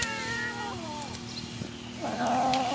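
A cat meows repeatedly for smoked fish, several drawn-out calls close by, the last one louder and rising, with a faint background hum.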